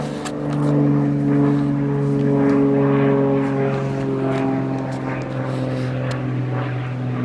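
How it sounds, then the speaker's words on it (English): A propeller airplane drones loudly and steadily overhead, its engine hum holding strong throughout with no one speaking. "Goodbye plane, you were very loud."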